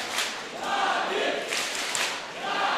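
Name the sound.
crowd cheering at Counter-Strike match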